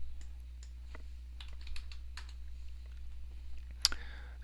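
Light, sparse clicks of someone typing on a computer keyboard come in small clusters over a low steady hum, ending with one sharper, louder click.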